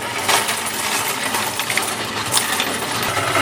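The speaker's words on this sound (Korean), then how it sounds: "저희는 일단 동전을 넣으러 왔습니다." Continuous dense metallic jingling and clattering of many coins pouring and tumbling through a coin counting machine in a bank, loud and close without pause.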